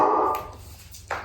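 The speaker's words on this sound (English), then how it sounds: "Stupid dog." A dog gives one loud bark at the start, followed by quieter scuffling and a short second yelp near the end, heard close by in a home garage setting.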